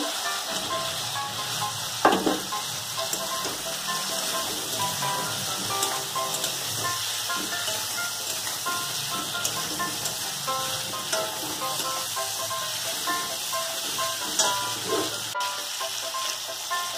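Potatoes frying in a pan with a little water for an egg curry, giving a steady close hiss and sizzle with a few faint clinks and bubbling pops throughout.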